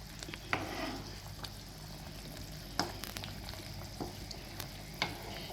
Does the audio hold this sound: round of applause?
no